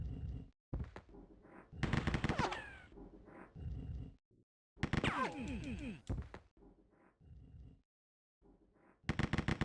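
Bursts of gunfire in Rise of the Triad Ludicrous Edition, rapid machine-gun rattles and sharp shots in several clusters separated by short gaps, loud and close, with brief game sounds between them.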